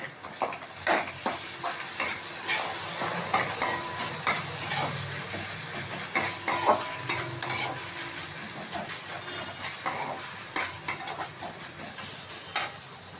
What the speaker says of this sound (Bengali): কড়ায় আদাটা দিয়ে একটু ভেজে নিলাম।